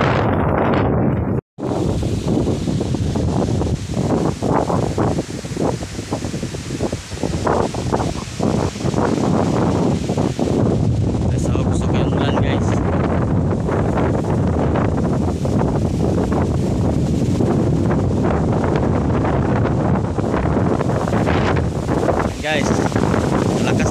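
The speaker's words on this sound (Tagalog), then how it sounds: "Lakas ng hangin at ulan. Tingnan nyo bagyo." Strong typhoon wind and rain from Typhoon Egay buffet the microphone in a loud, continuous roar with rushing gusts, while people talk and shout excitedly over it.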